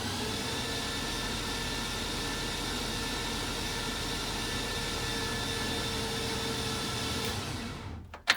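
A 1955 Buick Special engine with a turbo LS build being cranked, a steady loud whirring drone that holds for several seconds, then cuts off with a brief clunk at the end.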